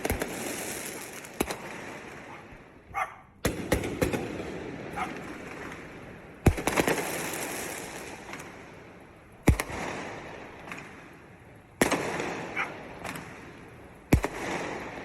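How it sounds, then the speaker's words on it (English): Fireworks go off in a series of sharp, loud cracks and booms at irregular intervals over about fifteen seconds, with crackling and rumbling trailing each burst. "So this argument of the fireworks, you know, scaring dogs, should it be banned because of that"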